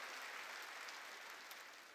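A church congregation applauds during a Wednesday worship service, a steady, even wash of many hands clapping that holds for about two seconds at a soft, distant level.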